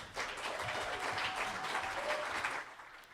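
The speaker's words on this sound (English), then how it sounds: "Everybody, a round of applause for Kate Crumley." A comedy club audience claps steadily for comedian Kate Crumley, a dense, even burst of applause lasting about three seconds.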